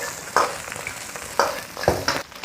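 Pork ribs are stir-fried in hot oil in a home kitchen, sizzling steadily while a utensil scrapes through them in three distinct sweeping strokes, close and fairly loud.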